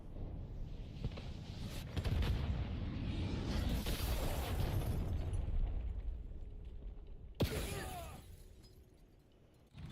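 Explosions and shattering blasts from Hellstorm missiles in Call of Duty Black Ops, loud and sustained with rumbling booms, then a sharp burst near the end as the din fades.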